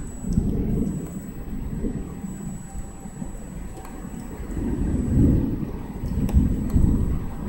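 Deep rolling thunder from a strong thunderstorm over Amiens, a long continuous low rumble that swells and fades with a few louder surges, heard from a distance with light wind noise on the microphone and no voices.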